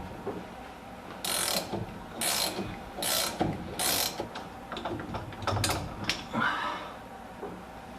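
Ratchet wrench clicking in several short bursts while a harmonic balancer bolt is worked loose on a car engine, close and fairly loud, the quick pawl clicks coming in spurts with pauses between them.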